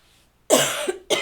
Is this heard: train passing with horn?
no